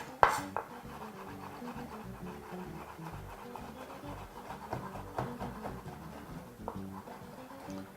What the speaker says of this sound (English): chop up this beautiful ham we have here